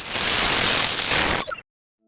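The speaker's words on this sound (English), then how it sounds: "Now, I have this picture of a Volkswagen Beetle, and we're going to try and hear what it sounds like." A photograph of a Volkswagen Beetle rendered as sound gives a loud, steady hiss of broadband static with a bright, shifting upper band, lasting about a second and a half before stopping dead into silence.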